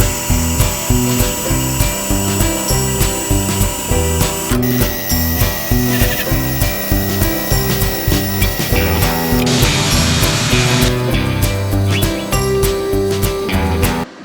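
Bank vault steel is cut up for forging, giving a loud, close, rhythmic grinding and rasping of a cutting tool through metal. The strokes repeat steadily and then shift to a harsher, brighter tone near the end.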